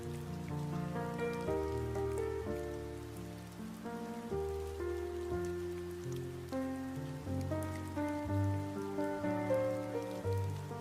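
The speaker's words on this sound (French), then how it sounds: "Les gouttes de pluie frappaient les fenêtres à la française de la chambre de Lily." Raindrops patter against French windows of a bedroom, a soft continuous rain texture under a calm, slow-moving musical bed of sustained tones.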